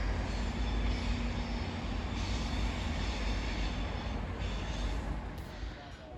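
Cross-country train passing through Totnes station, a steady, loud broadband rumble of engine and wheels holding throughout, with no clear individual horn or squeal standing out.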